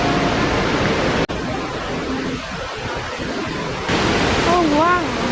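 A waterfall on a lake island rushes in a constant broad wash of noise with wind buffeting the microphone, and near the end a voice speaks briefly over it.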